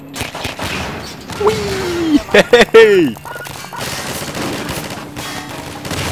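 Machine gun fire from the Half-Life 2 video game, with loud rapid bursts clustered in the middle of the stretch amid other game noise while someone talks excitedly over it.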